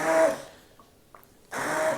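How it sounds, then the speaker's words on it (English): An immersion blender purees bean soup in a pot with a steady whirring drone, cutting out for a quiet pause before whirring up again, close and fairly loud. "making sure that my immersion blender is fully immersed"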